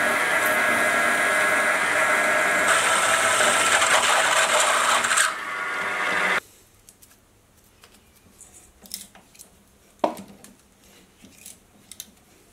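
In a machine shop, holes are drilled in a metal bracket for a helical milling attachment, a harsh continuous grinding hiss lasting about six seconds, followed by quiet scattered taps and clinks.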